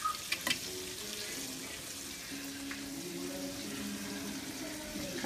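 Catfish fry in hot oil with a steady crackling sizzle throughout, close and continuous, with a few clinks early on and no one talking.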